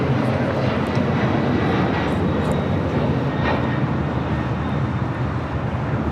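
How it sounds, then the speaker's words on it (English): Delta Boeing 767-300ER jet taking off at LAX, a loud, sustained rumbling engine roar with wind buffeting, steady and continuous without voices. "535 taking off to JFK on a 767-300ER"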